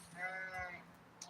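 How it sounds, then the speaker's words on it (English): A sheep near a walkway gives a single wavering bleat, faint and somewhat distant, followed by a few quiet background noises. "Oh God, those sheep in the walkway"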